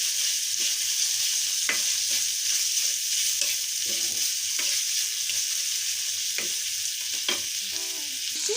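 Beef mince with turmeric, chili and coriander-cumin powder sizzles steadily in a pan, a constant close frying hiss broken by occasional sharp scrapes and clicks of a spoon stirring through it.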